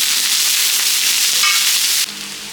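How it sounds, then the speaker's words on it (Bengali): Chopped onions frying in a pan for tawa chicken: a loud, dense hiss of sizzling oil that cuts down abruptly to a quieter crackle near the end. "কাটা পেঁয়াজ, কুচানো পেঁয়াজ এটা দিয়ে দিব। এটা ভালো করে ভেজে নিই।"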